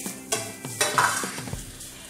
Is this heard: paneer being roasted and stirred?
yes